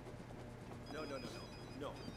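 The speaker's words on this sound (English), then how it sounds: "Someone called my phone." A phone rings inside the video game Sleeping Dogs, its faint, repeated electronic tones sitting low beneath a steady background of game ambience.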